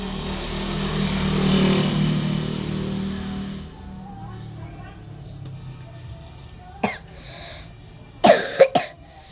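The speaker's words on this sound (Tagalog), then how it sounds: "inuubo lang ako" A person coughing close to the mic, a few sharp bursts near the end, after a stretch of quiet background noise and faint engine rumble.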